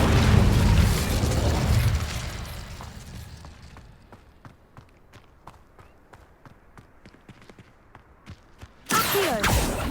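An Incendio fire spell in Hogwarts Legacy starts as a loud roaring burst that fades over a few seconds into sparse crackles and small pops, then a sudden loud blast returns near the end.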